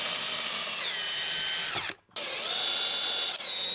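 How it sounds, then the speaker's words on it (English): A power drill whines steadily into a wooden workbench, drilling pilot holes for screws, briefly stops, then starts again for a second burst; close and loud, no talking. "now I'll drill the pilot holes for the screws into the workbench"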